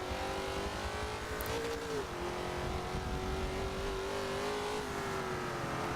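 Race car engine in Forza Motorsport 7 pinned against the rev limiter, a continuous buzzing whine with a brief dip and recovery partway, quiet and steady with no talk.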